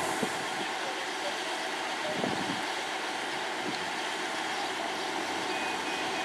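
A train standing at Romsey station, a steady low rumble and hiss with wind noise, distant and faint, with scattered small knocks and no speech.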